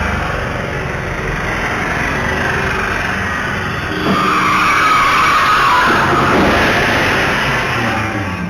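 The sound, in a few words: car out of control hitting a bike and crashing into a shop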